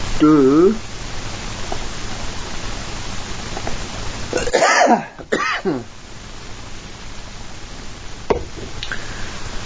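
A person coughs sharply a couple of times at close range, with a quieter cough afterward, over steady background noise.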